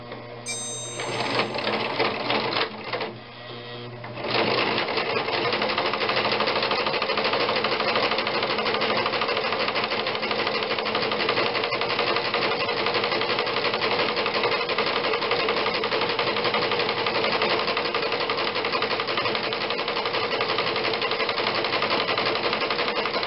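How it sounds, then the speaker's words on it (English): A sewing machine stitches a nun's veil in a steady, loud, continuous whirring run that starts after a brief pause and continues uninterrupted. "we're going to go over the initial stitch just a couple of times."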